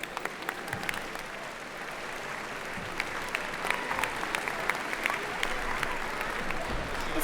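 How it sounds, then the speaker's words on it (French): An audience applauds at a diocesan jubilee celebration, with sustained, even clapping from a large crowd holding a constant level throughout, sharp individual claps standing out and a faint murmur of voices beneath. "On applaudit."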